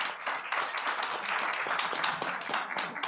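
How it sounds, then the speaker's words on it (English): A symposium audience applauds, with dense, steady clapping from many hands that fills the space and continues evenly throughout. "Let's give them a round of applause."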